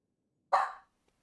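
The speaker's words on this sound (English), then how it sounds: "I'll let him bark a little bit because it's good for dogs" A dog gives one short, sharp bark, close and loud, standing alone in silence.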